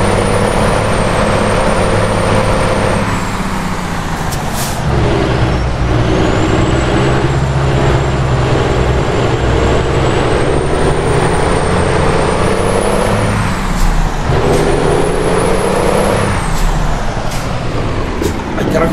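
Freightliner FLB truck engine running loud and steady throughout, a deep rumbling drone with rising and falling pitch as it works along a road between Durango and Chihuahua, with faint whining tones above.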